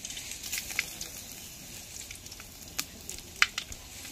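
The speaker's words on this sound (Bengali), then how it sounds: "ডালটা ফোড়ন দিয়ে দেবো। প্রথমে তেজপাতা দিয়ে দেবো, শুকনো লঙ্কা দিয়ে দেবো," Bay leaf and dried red chillies hit hot oil to temper dal, giving a soft, steady sizzle with a few sharper crackles and pops, fairly quiet and close, with no speech.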